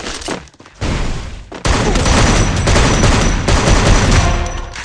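Rapid gunfire rattles in a shooting video game, with dense loud bursts of shots and booms that start and stop abruptly and then run almost without a break.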